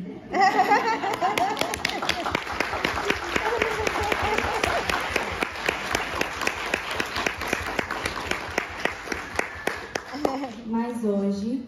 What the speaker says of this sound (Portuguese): Mas hoje, o grande aplauso é para ti, mãe.